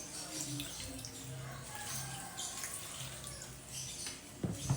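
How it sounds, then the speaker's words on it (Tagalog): Water running and splashing into a pot of milkfish being cooked as paksiw, a low continuous pour with faint bubbling and a few clanks near the end. "saka natin lagyan ng tubig."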